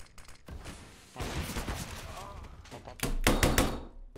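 Gunfire in a video game, with bursts of shots punched through walls, a sharp burst at the start and a denser, louder cluster of shots near the end, mixed with thuds and heard under a player's raised speech.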